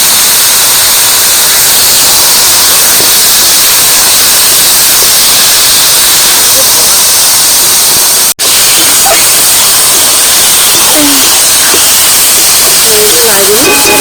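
Boiled taro pieces dropped into a pan of frying spices with turmeric and chili powder, a loud, dense hiss and sizzle filling the whole stretch, with a sharp break midway and small scraping and crackling sounds afterward.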